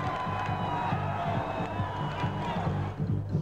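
A crowd celebrates an NC State basketball championship, a dense roar of cheering and shouting that holds steady throughout, with talk mixed in.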